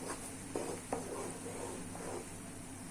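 Spices for a sweet-sour mango pickle sauté in a pan with a low, quiet sizzle, punctuated by a few soft scraping stirs of a spoon, close and without talk.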